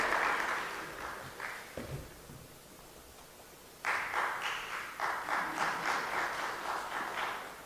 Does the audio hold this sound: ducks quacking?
no